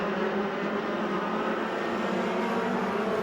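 USAC sprint cars race around the Bakersfield, California track, a steady, loud engine drone from several cars blending into one continuous roar heard from a distance.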